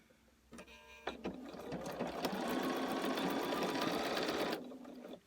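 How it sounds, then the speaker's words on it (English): Sewing machine stitching pumpkin quilt pieces together, starting with a couple of short stitch bursts, then running in a continuous fast, rattling hum for about three seconds before stopping, close and alone without talk. "we're gonna start sewing."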